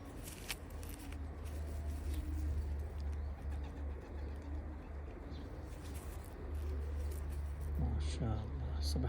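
A male teddy pigeon of an old bloodline coos in low rolling calls close by in a loft in Oman, over a constant low hum, with brief rustling and fluttering noises near the end.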